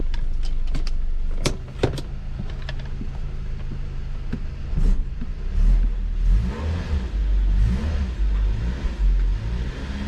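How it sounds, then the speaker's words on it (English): A BMW with a transmission low on fluid being driven, its engine droning and revving unevenly inside the cabin, with a few sharp clicks and knocks early on and deeper rumbling surges later. "let's take this car for a drive."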